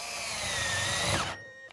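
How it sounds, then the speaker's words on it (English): A drill fitted with a step bit whines at high speed through sheet metal duct, a loud, steady grinding scream that drops in pitch and stops abruptly, alone without speech. "Now another way to do this is with a step bit and a drill."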